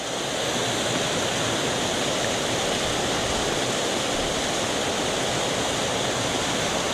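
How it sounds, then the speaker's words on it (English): Waterfall cascades in Glen Nevis, Scotland, pour in a loud, constant rushing roar that fills the whole stretch without a break. "All the way up the path, especially from the top of the waterfall, there's these gorgeous cascades."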